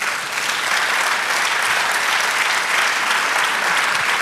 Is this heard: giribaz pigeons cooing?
no